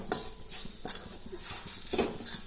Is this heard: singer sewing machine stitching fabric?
no